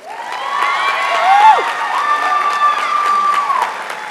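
A crowd at a Gettysburg College midyear graduates recognition ceremony applauds and cheers, with sustained clapping, whoops and raised voices filling the room at a loud, steady level.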